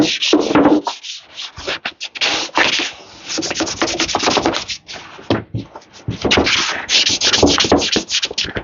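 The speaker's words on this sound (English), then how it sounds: "So we're just gonna sand this all down" Hand sanding with 320 grit sandpaper on the front foot tub parts of a 1977 Honda Odyssey FL250 being restored, a close, loud, continuous rasping rub in quick back-and-forth strokes with short pauses, no talking.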